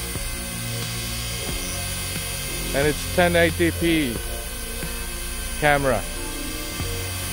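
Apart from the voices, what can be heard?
SJRC S30W GPS camera drone flying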